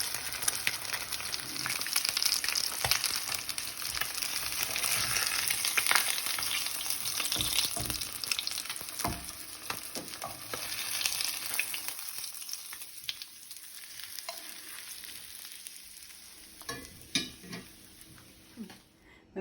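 Spicy Indian-style fish fry with curry leaves sizzling in a pan, a dense, steady crackle of hot oil close up that thins out toward the end, with occasional clinks of a utensil against the pan.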